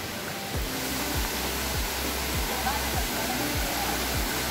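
A waterfall on the trek to Kondhana Caves near Karjat gives a loud, steady roaring rush of falling water close by, continuous throughout, with a faint repeated low thump underneath.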